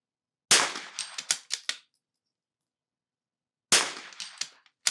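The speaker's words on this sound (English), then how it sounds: "2 shots." Gunshots from a .22 rimfire rifle at an NRL22 shooting range course of fire, sharp loud reports each followed by brief ringing and echo, one near the start and another a few seconds later with silence between.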